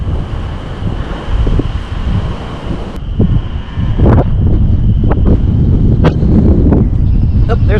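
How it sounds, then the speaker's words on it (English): Strong wind swirls outdoors at a New Jersey bass-fishing spot, a loud continuous buffeting roar across the microphone with a few sharp gusting thumps and no talk. "Just whipping up all this wind,"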